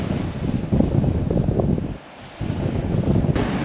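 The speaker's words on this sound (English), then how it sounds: "Lucky Bay, you're a little bit too windy for us today" Strong wind buffets the microphone at Lucky Bay beach in Western Australia, a loud, continuous roar with a brief lull in the middle.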